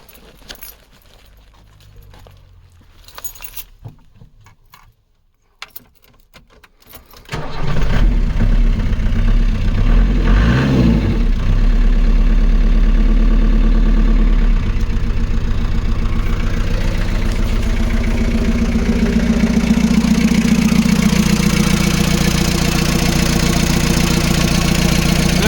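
A Ford Transit mk2 diesel engine turns over and settles into a steady, loud idle close by, preceded by keys jangling and a few faint clicks before it catches.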